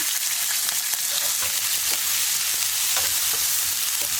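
Green chillies and onions fry in a pan of mustard seeds, a continuous close sizzle broken by occasional stirring clinks and crackles, with no voices.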